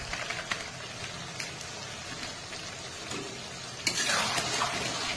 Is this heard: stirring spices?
yes